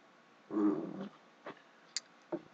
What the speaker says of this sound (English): Oh, I can hear him say meow